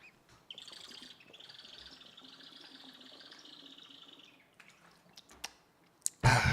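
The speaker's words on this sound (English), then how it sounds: "Crazy water bottle sound incoming." A water bottle squeaking while someone drinks from it: a long, high, wavering squeal for about four seconds, then a few short squeaks and a louder clunk at the end, all fairly close.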